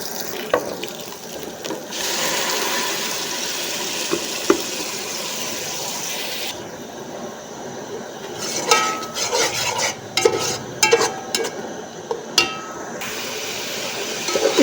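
Masala cooked down with tomato juice for chicken matar pulao, frying with a steady close sizzle and bursts of scraping and stirring in the pan.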